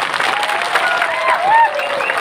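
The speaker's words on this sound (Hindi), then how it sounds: "रतीश बाबू को ताली दीजिए" A rally crowd in Tripura applauds for Ratish Babu, a loud, continuous patter of clapping, with a few faint whistle-like tones rising briefly above it.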